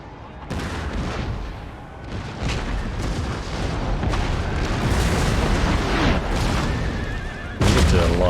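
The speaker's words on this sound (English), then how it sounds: "we will unload our artillery" Cannon artillery firing in the strategy game Empire: Total War, a continuous stretch of rumbling booms and overlapping gunfire blasts under steady battle noise, ending in a louder burst.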